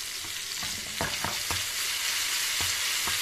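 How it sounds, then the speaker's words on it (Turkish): Steady hot sizzling of pepper flakes frying in butter, a constant crackling hiss with a few soft clicks of stirring. "pul biberimizi kızdırıp tatlılarımıza dökelim."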